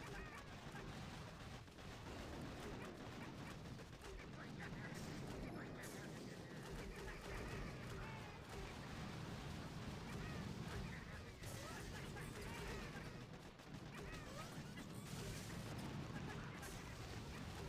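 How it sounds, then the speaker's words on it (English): Continuous battle din from a Boom Beach attack, with a shock launcher firing on bombardiers amid repeated blasts and crashing impacts that overlap into a steady rumble, heard low in level under faint talk. "Okay, that shock launcher is firing at my bombardiers now."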